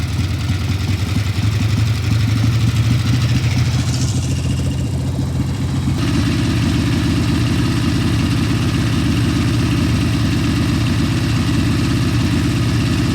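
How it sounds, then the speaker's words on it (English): A Harley-Davidson Ironhead Sportster engine idles steadily up close, and midway its idle is raised to a slightly busier, steady rumble that stays loud and continuous, with no voices. "Now I'm gonna go bring the idle up."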